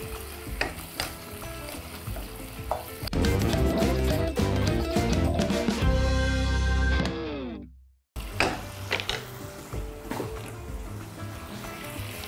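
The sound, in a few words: beef frying and stirred in a pot, boiling water added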